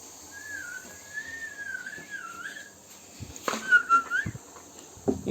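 A person whistles a wavering, sliding tune for a few seconds in a quiet room. Clattering knocks follow, with a short second whistle among them.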